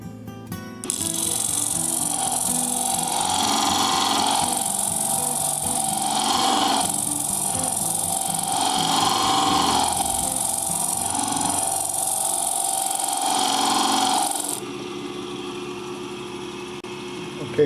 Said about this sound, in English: what I'm doing is I'm cutting with the 100 grit lap